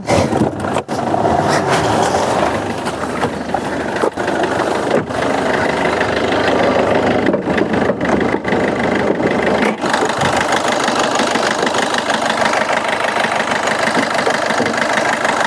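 A Swift Dzire diesel car idles after being started, a loud steady clattering engine drone close by with occasional knocks and scrapes, no talk.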